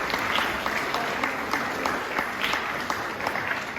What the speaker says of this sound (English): we would like to give all of you guys in the GC a big round of applause